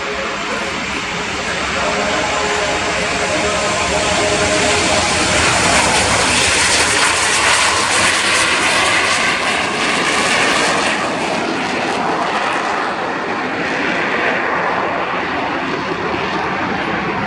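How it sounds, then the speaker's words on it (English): A Frecce Tricolori display jet accelerates on its takeoff roll, a loud, sustained roaring engine that swells and holds for many seconds, with a commentator speaking over it. "Acceleration during this takeoff roll, rotation will be the 110 knots."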